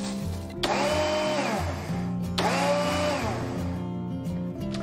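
Peanuts pulsed in a high-speed blender in two short bursts, the motor roaring loudly and then winding down each time, with a steady low hum from the appliance between pulses.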